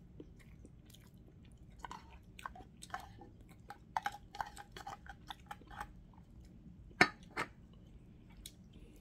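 Canned spicy tuna being chewed, with soft wet mouth sounds and a few sharper bites repeating closely, quiet and alone.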